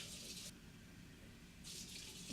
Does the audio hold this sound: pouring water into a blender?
yes